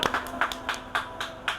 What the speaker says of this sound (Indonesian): Tepuk tangan dulu untuk Karang Taruna.